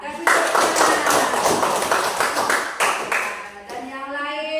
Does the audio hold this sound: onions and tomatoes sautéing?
no